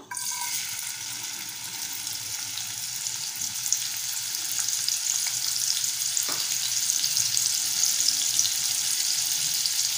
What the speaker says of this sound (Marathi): तेल थोडंसं गरम झालं की त्यामध्ये बारीक चिरलेला कांदा घालूया